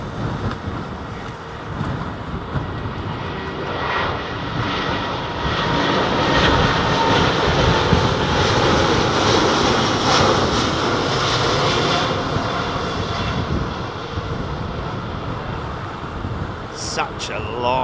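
A Boeing Dreamliner jet roars steadily down a long runway at London Heathrow Airport. The engine noise is loud and broad, swells and then eases with some wind buffeting, and people can be heard talking.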